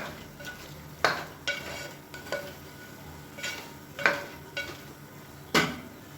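Mushrooms sautéing with masala in a pan for mushroom biryani, a soft low sizzle under a handful of sharp spoon scrapes and clinks against the pan at irregular intervals, close and moderately quiet.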